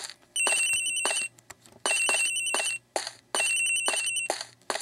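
A phone rings in the video game Miles Edgeworth: Ace Attorney Investigations on Nintendo DS, three long electronic bursts with short pauses between them, bright and fairly loud, over a low background hum.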